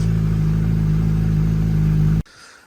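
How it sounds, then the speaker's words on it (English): A Kawasaki motorcycle engine idles with a steady, loud, close mechanical hum, then cuts off abruptly near the end, leaving faint background noise. "We can adjust it a bit more while the engine's running"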